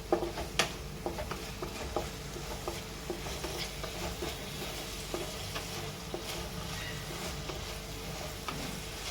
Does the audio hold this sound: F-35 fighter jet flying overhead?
no